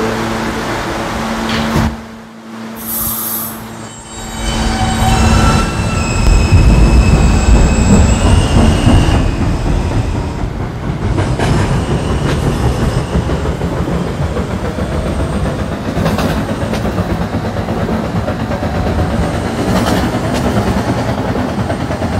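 A Roblox video game subway train, an R160A, rumbles steadily and loudly, its wheels squealing and clattering on the rails, with a brief dip in noise near the start.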